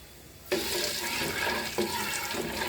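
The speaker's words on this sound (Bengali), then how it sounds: "সরিষার তেলের মধ্যে 5 ফোড়ন আর শুকনো মরিচ দিয়ে দিলাম।" Five-spice and dried chillies drop into hot mustard oil and set off a sudden loud, steady sizzle, with a second surge of crackling partway through.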